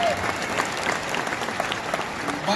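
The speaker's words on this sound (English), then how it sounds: "Give yourselves a round of applause." An audience at a men's meeting claps together in a sustained burst of applause, dense and even from start to finish, with a murmur of crowd voices mixed in.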